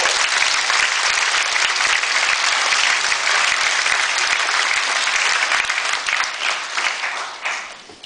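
An awards ceremony audience applauds warmly, dense sustained clapping from a full room that holds steady for several seconds and then thins and fades toward the end.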